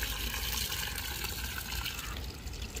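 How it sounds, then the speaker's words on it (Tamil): Tamarind water poured into a large pot of fish curry cooked for 200 people, a steady splashing, gurgling flow heard close up and continuous throughout. "புளியை ஊற்றி வச்சுப்போம்."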